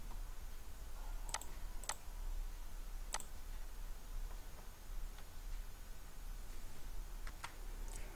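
Sharp mouse clicks sound several times, close and faint, over a soft background hiss as a user clicks through the View and Toolbars menus in LibreOffice Calc.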